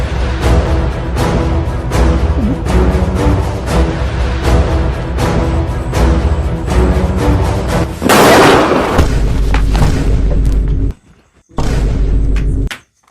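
Diwali firecrackers going off in a rapid, loud string of booms and sharp bangs, with a denser burst near the end before a brief pause and a final volley.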